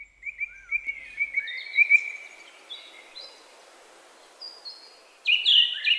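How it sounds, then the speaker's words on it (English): Garden birds calling and singing in a series of high, clear chirps and whistled phrases, with a louder burst of song near the end over a soft background hiss. "Birds communicate with one another through calls, songs, and dances"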